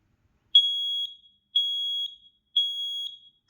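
A Kidde combination smoke and carbon monoxide alarm gives three loud, high-pitched beeps, each about half a second long and evenly spaced a second apart, with silence between them.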